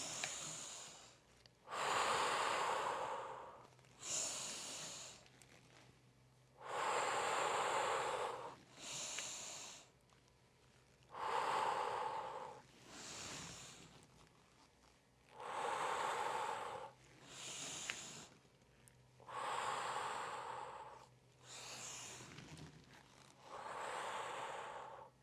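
Steady breathing during a yoga hip exercise, with long, close, airy inhale and exhale bursts repeating in a slow rhythm, about eight or nine breaths with quiet pauses between them and no talking.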